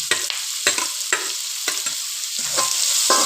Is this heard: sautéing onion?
yes